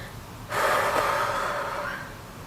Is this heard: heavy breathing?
yes